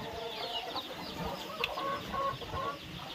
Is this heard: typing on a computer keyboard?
no